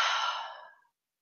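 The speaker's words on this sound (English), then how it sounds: "take a deep breath in and out" A single deep exhale during a guided meditation, a soft close breath that starts full and fades out over most of a second, followed by silence.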